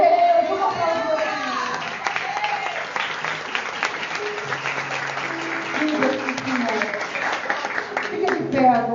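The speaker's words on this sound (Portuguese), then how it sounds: "Vamos aplaudir." A church congregation applauds at a women's gathering, with steady sustained clapping from a crowd and voices carrying over it throughout.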